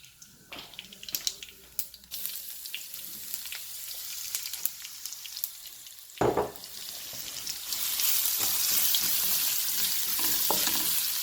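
Ginger, garlic and chilies fry in a pan for daal, giving a steady close sizzle with scraping stirs. The hiss swells louder and brighter near the end as the pan heats up.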